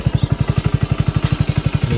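A motorcycle ridden on the road to Vav thumps out a loud, close, evenly pulsing engine beat with rapid regular firing strokes that carry through the whole short stretch.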